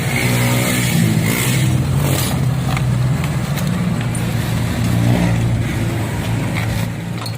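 A Honda RS150 motorcycle engine with a stock exhaust pipe runs loud and close, revving up and down repeatedly over a rough idle, with exhaust roar throughout.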